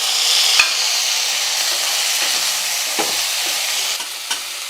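Tomatoes and tamarind sautéing in a pan for a Tamil vatha kuzhambu, a steady soft sizzle with occasional stirring scrapes and light clinks, close by and continuous with no talk.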